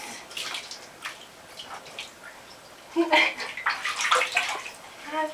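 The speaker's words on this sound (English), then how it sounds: "We'll do a little rinse." Water splashes and trickles in a bathtub as someone is rinsed during bathtime, soft intermittent pours and drips that grow busier toward the end, close and fairly quiet.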